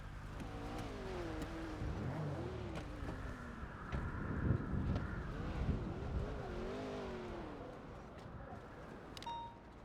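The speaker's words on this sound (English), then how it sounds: "There's a car pull up in here." Car pulling up in the GTA V NoPixel roleplay game, with a steady engine drone and shifting revs under continuous background game noise, moderately loud throughout, along with faint voices.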